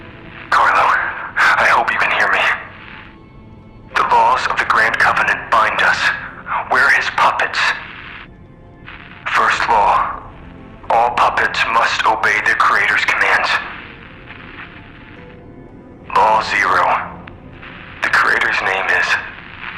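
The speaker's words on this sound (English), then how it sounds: "I did the best I could to decipher the wavelengths, but there was considerable noise in the signal." A noisy decoded radio signal message in the video game Lies of P: several choppy bursts of distorted, static-laden voice transmission separated by brief hissing gaps, loud and close.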